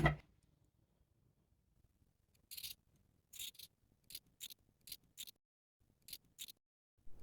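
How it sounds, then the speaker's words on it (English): Scissors snip a woven cotton sample off a table loom, several crisp close cuts in short clusters separated by quiet pauses. "So let's cut it off the loom."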